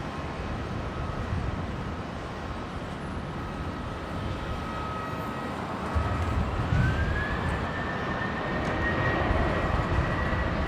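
A passenger jet, a Velocity flight bound for Melbourne, takes off from runway 19 left at Brisbane International Airport with a loud, steady engine roar that swells and holds, with a high whine rising partway through.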